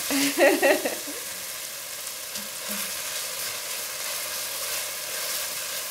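Scotch bonnet peppers frying in a pot, a steady close sizzle with a short burst of stirring and clattering at the start.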